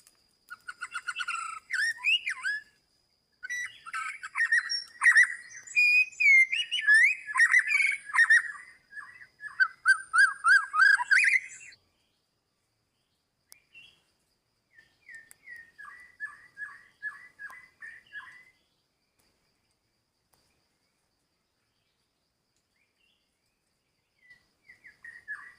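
An oriental magpie-robin sings bright, varied whistled phrases in a dense burst. After a pause, a few softer repeated chirps follow at a distance.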